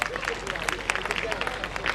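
A school function crowd claps loudly to welcome a student athlete, a steady, dense patter of many hands close by with a murmur of voices underneath.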